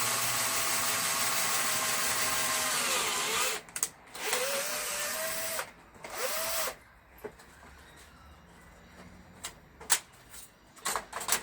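A power drill whines steadily while boring a hole, its pitch dropping as it slows, then short bursts of drilling and clicks follow.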